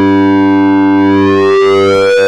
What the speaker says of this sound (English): You can also hard sync to produce even more amazing sounds.